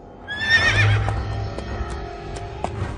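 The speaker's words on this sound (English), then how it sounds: "He put his horse there." A horse gives one loud, clear whinny with a falling pitch near the start, heard in a barn outside a palace, followed by a quieter stretch with a few faint knocks and hoof-like taps.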